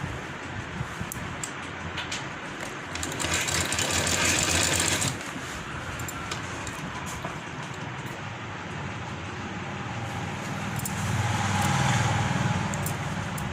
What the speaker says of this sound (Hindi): मैं इस पर कच्ची सिलाई करूँगी। सिलाई का पॉइंट बढ़ा दूँगी।